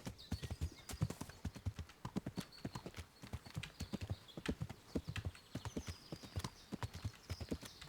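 Horse hooves gallop in Kingdom Come: Deliverance, a rapid, steady clip-clop rhythm that runs the whole way through, fairly quiet, with no talking.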